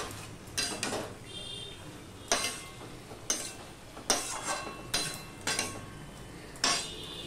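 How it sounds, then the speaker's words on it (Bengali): A spoon stirs a mixture in a pan, giving a series of close scraping and clinking strokes in an uneven rhythm, roughly one every half second to a second, over a faint sizzle. "এবার আমি সম্পূর্ণটা ঘেটে নিলাম"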